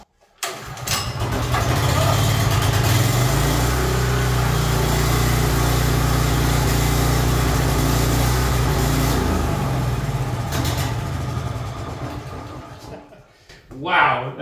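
A small go-kart engine mounted on a converted moving dolly fires up and runs with a loud, steady buzzing drone, close by, holding for about ten seconds before cutting out, with voices speaking around it.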